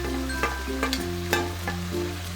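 Tomatoes frying in a pan with spices, a steady sizzle with a few light stirring scrapes, under a sustained low musical hum and no talking.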